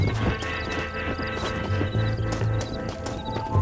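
Horse hooves clip-clop steadily in Red Dead Redemption beneath a dense, continuous layer of game music and effects, with an occasional neigh.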